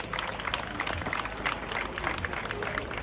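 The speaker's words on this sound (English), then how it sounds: "Please let's give them another round of applause." Crowd applause at an outdoor parade event, a distant, diffuse patter of clapping mixed with crowd murmur and voices, steady and moderately faint throughout.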